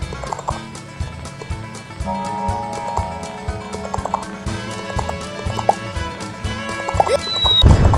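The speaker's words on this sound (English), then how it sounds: "Now ride hard, little horsey." A horse's hooves clip-clop in a steady galloping rhythm, fairly loud and close, with a whinny-like tone and other sounds mixed in.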